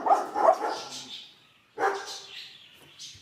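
Pop-up farm animal toy playing a recorded dog bark, two short bursts of barking separated by a pause, thin and tinny, heard up close at moderate volume.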